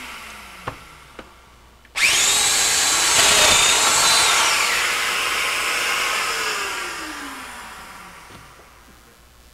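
A power tool cuts a mortise into wood for Chippendale-style furniture: a loud, close, high-pitched whine starts abruptly after two light taps, holds steady for several seconds, then slowly winds down and fades.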